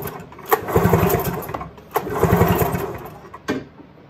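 A Skidoo 377 Scandic snowmobile engine cranks over with no spark plugs fitted, giving three loud pull-start bursts of chugging, whirring turnover, close up and separated by short gaps, without firing.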